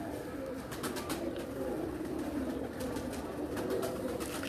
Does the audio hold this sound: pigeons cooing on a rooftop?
yes